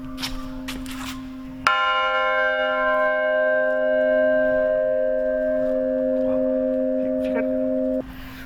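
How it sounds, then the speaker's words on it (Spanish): A single deep bell strike rings out loudly, its bronze tone sustaining and slowly fading, with faint voices and background noise around it. "por el sonido de la campana, lo que acabamos de escuchar ahora"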